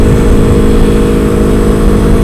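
Motorcycle engine cruising at 46 mph in 4th gear, a loud steady mid-pitched drone heard close from the rider's position, with continuous wind rush and no talk.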